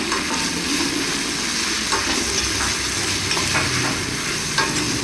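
Okra (ladies finger) curry soup being stirred in a pot, a steady close scraping and mixing sound over a continuous sizzle, with no talking.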